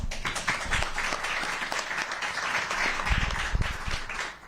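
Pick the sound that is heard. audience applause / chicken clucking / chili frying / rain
audience applause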